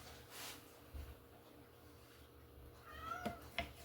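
A house cat meows for meat while beef is cut for homemade jerky, a couple of faint, distant cries early on and then clearer rising meows near the end over a low room hum.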